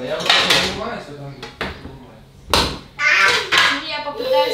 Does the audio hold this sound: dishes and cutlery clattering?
yes